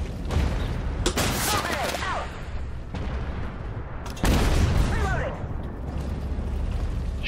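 Gunfire during a video game mission, with sharp loud shots and booming bursts rising over a constant battle roar, while someone talks over the firing.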